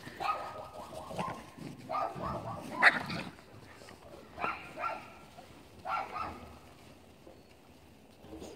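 Small puppies give several short yips, barks and whimpers in scattered bursts close by, with quieter gaps in between and a person's voice speaking lightly at times.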